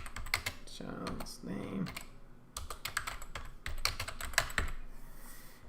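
Rapid keystrokes clatter on a computer keyboard in two quick bursts as a name is typed in, close and crisp, with a voice speaking briefly between them.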